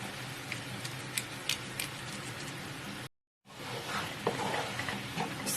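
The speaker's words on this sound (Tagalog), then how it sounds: "stir lang po natin" A butter garlic chicken sauce with onion, water and herbs bubbling and being stirred in a pan, a soft steady sizzle with faint scraping clicks, broken by a brief silent cut.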